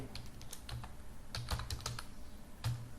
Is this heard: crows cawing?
no